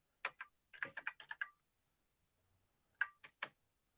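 Keys tapped on an Apple IIc computer keyboard in two quick bursts of crisp clicks with a short pause between, close and quiet against a silent background.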